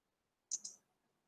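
A quick double computer mouse click opening a file, two sharp close taps in rapid succession, then quiet.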